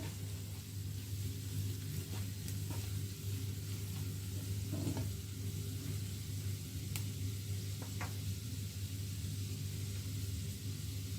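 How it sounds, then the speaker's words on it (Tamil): Chillies tempering in oil in a pan on medium heat for a crispy vegetable samosa filling, a soft continuous sizzle over a low steady hum, with an occasional faint stir or clink. "அடுப்பை அளவான ஹீட்டில் வச்சு இதை நான் தாளித்து கொள்கிறேன்"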